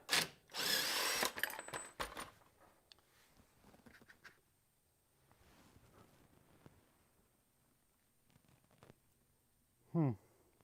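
Power tool spinning a bolt out of a leaf spring: a loud close whirring burst at the start, followed by quieter clanks and handling noise, then a short rising whir near the end.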